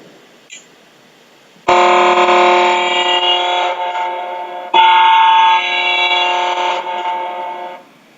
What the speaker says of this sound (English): Normally it'll beep and buzz and make all kinds of funny noises.